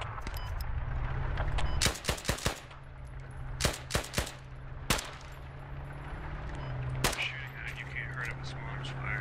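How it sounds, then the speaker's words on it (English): Gunfire from infantry weapons in the military video game Squad, with several sharp bursts and single shots cracking over a steady low rumble, fairly faint overall. "I'm shooting at the infantry way back behind it."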